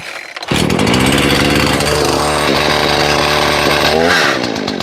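A Husqvarna 38cc two-cycle X-Torq 14-inch chainsaw with auto oiler starts after a brief quiet moment and runs loud and close, its engine buzzing steadily with a slight shift in pitch as it idles and revs.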